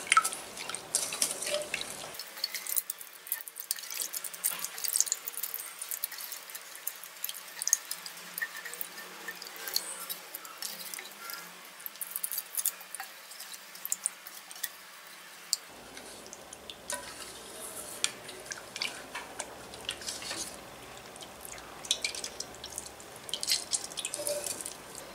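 Water splashes and drips steadily as tamarind is squeezed and dissolved by hand for rasam, close-up trickling and dripping sounds with a quieter stretch in the middle.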